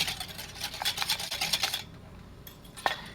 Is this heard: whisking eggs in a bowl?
yes